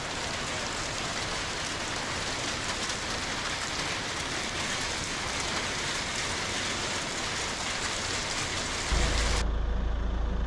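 Heavy rain mixed with hail pours down outdoors in a dense, steady hiss of drops pattering on surfaces, loud and unbroken, with a low rumble rising briefly near the end.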